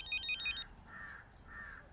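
A mobile phone ringtone chimes in bright repeating electronic notes and then cuts off, leaving quieter tonal sounds in a room with no talking.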